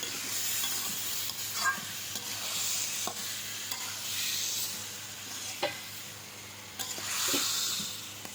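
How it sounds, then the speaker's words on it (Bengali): Beef with salt being stirred in a pan over a wood fire: a steady sizzle with periodic scraping strokes of the spoon against the pan, close and moderately loud, no talking. "লবণ দিয়ে আমি একটু নেড়ে নিলাম।"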